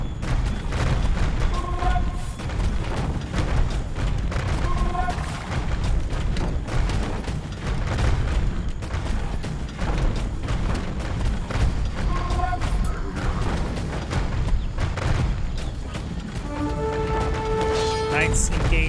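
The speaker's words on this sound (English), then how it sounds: "Now we've got a Mangonel here. Polish decided to barrage down some of those villagers." A Mangonel siege weapon barrage in Age of Empires 2 sends repeated booming impacts through dense battle noise, with brief tonal game chimes scattered throughout and a voice talking over much of it.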